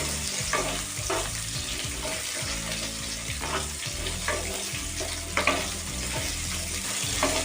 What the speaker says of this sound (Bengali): দিয়ে এবার আমি সজনে ডাঁটাটা ভেজে নেব।